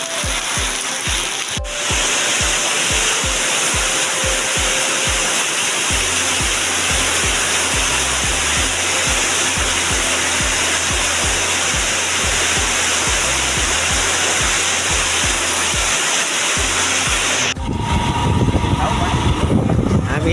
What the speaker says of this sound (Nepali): यता चाहिँ पुरा पानी परिरहेछ।